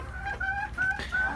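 Chickens and a rooster clucking close by, a series of short, bright, repeated calls in quick succession.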